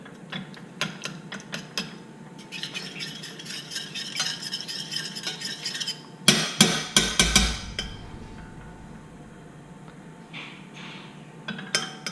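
Something melts in a pan on a stove over fairly high heat, with scraping and clinking stirring strokes, faint sizzling, a burst of loud metallic clatter midway, then quieter scrapes.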